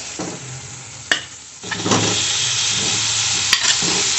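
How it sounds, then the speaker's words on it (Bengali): Fried potatoes drop into a spice paste sizzling in a pan, followed by loud frying hiss and stirring scrapes, with a couple of sharp clacks against the pan, close and continuous. "এবার আমি এতে ভেজে রাখা আলুগুলো দিয়ে দিচ্ছি"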